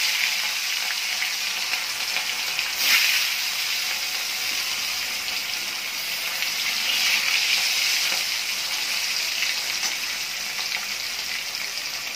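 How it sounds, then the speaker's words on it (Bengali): Pieces of katla fish fry in hot mustard oil in a kadai, a continuous loud sizzle and crackle that swells briefly a couple of times but never stops, close up with no voices. "সর্ষের তেল গরম হয়ে গেছে। তাহলে চলো এবার মাছটা ভেজে নিই।"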